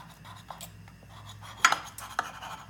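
A knife cutting through a sheet of matzah on a board, giving soft scraping strokes and a few sharp cracking snaps as the cracker breaks, fairly close and quiet with no talking.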